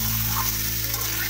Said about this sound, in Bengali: আবারও খুব ভালো করে ভেজে নেব 5 থেকে 7 মিনিট।